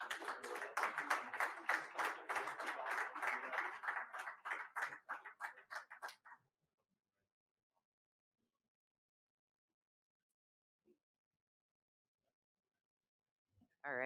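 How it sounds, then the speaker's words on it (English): An audience at an Army Cyber panel event claps steadily for about six seconds, the applause thinning and fading into silence. "let's give our next panel a round of applause"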